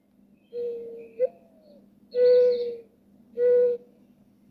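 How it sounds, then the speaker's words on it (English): A mourning dove's soft cooing, three hollow, drawn-out notes with brief gaps, played clearly through a small speaker in a quiet room. "Mourning dove."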